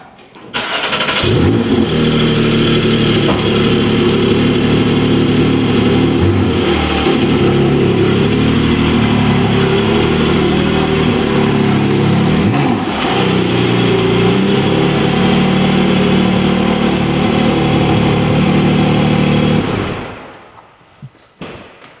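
A Porsche 718 Cayman GT4 (982) with a naturally aspirated 4.0-litre flat-six rated at 420 PS runs loud and close for about twenty seconds, its engine note rising and falling with revs before cutting off abruptly near the end.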